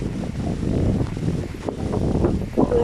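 Wind buffeting a microphone while travelling across open fields in Denmark, a steady low roaring rumble with gusty swells, loud and close, no voices.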